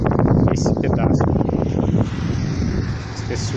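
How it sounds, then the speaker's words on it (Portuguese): Strong wind buffets an outdoor hillside near the town of Cunha, producing a loud, continuous roar of microphone wind noise with a person talking over it. "Aqui está ventando bem."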